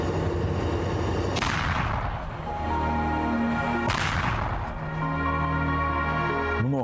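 Two powerful blasts from a DANA-M2 self-propelled howitzer boom a few seconds apart, each followed by a long rumbling decay, with a steady mechanical hum in between.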